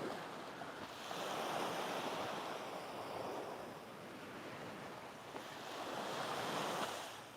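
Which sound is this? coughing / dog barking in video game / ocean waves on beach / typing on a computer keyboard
ocean waves on beach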